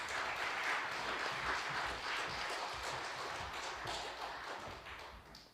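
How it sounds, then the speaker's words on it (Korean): A church teaching session crowd gives a speaker a big welcoming round of applause, loud sustained clapping from many hands that gradually tapers off toward the end. "우리 나오실 때 큰 박수로 맞아주시기 바랍니다"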